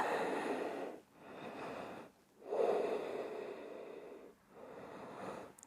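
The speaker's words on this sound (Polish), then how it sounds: "Jeszcze trzy spokojne oddechy." Slow, calm deep breaths during a yoga session, each long inhale and exhale flowing into the next with short pauses between, close and steady with no talking.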